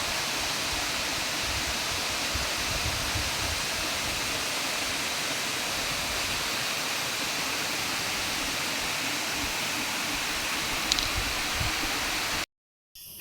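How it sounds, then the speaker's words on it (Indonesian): A tall waterfall at a mountain camp on Mount Halau-Halau in South Borneo rushes with a steady, even hiss of falling water, constant and moderately loud until it cuts off abruptly near the end. "Di pos 2 inilah terdapat sebuah air terjun yang cukup tinggi"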